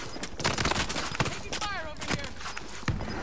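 Gunfire in the shooter game Call of Duty Warzone Cold War on Rebirth Island, repeated sharp shots and bursts scattered over steady game noise, with players talking throughout.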